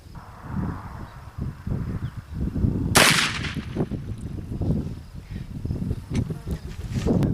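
A single sharp report from a Lyman Great Plains muzzleloader rifle fired during sighting-in. It is loud and sudden, and it comes amid murmuring outdoor noise and rustling.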